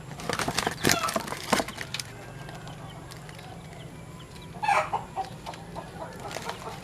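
Backyard chickens clucking in a coop alongside week-old hatched chicks, a burst of close clucks at the start, a quieter stretch with soft peeping, then another clucking flurry near the end.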